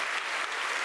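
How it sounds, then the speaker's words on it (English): Audience at a development conference closing ceremony applauds, a brief burst of dense, steady clapping from a large crowd. "I will ask for a big applause."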